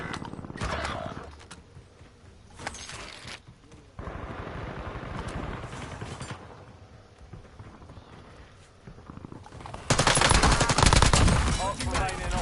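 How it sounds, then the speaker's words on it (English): Gunfire in a shooter video game comes in bursts of rapid automatic shots, some near and sharp and others more distant, with a loud volley at the end and game voice callouts between. "Incoming shots!"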